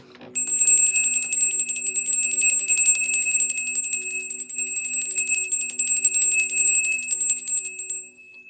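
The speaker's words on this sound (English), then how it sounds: "Let's ring that bell." A bell is rung with a rapid, continuous trill of bright metallic tones lasting about eight seconds, then stops abruptly. It sounds close and loud, with no talking.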